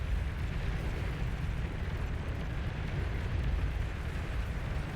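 Bombing-run explosions in the real-time strategy game Beyond All Reason during a large 8v8 battle: a dense, continuous low rumble of overlapping blasts and booms, loud and steady throughout with no distinct pauses.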